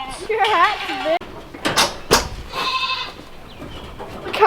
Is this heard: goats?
yes